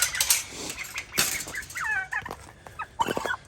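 Turkeys gobble in bursts while being fed outdoors in the snow, their warbling calls close and loud, mixed with other fowl noises and a few brief human sounds.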